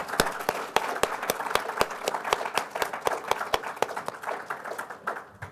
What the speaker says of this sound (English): if all of you could join me in giving our wonderful panelists a round of applause